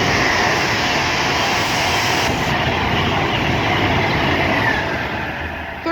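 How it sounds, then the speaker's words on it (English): Pendolino train passing through Rugby station on the West Coast Main Line, a loud continuous rushing roar of wheels and air held steady throughout before beginning to ease at the very end. "passing through now is a Pendolino going"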